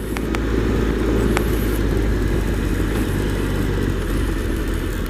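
A Triumph Explorer XCa motorcycle cruising along country roads, its engine humming steadily under heavy wind rush, with no one talking.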